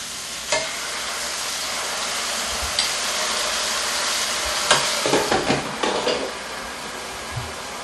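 Zucchini worked into thick chocolate cake batter with a spoon in a bowl, giving soft, continuous scraping and squelching strokes, with a cluster of louder knocks and scrapes against the bowl near the end.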